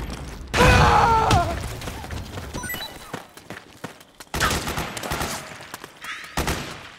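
Gunfire in the video game Metal Gear Solid 4: a loud burst of rapid shots and mechanical clatter, then quieter scattered bursts with brief gaps between them, in a busy battle mix.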